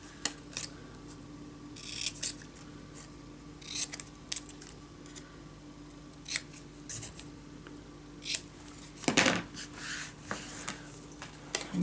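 Scissors snip paper for a Christmas scrapbook mini album in short, close, crisp bursts spaced irregularly across a quiet room, with one louder cut near the end and no talking.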